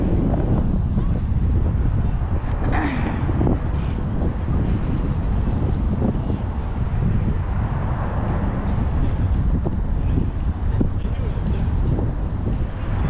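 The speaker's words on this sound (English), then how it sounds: "It's quite windy up here." Steady wind buffeting a microphone on the deck of the ship Ambrose in New York City, a low rumbling roar that holds for the whole stretch with brief gusty surges.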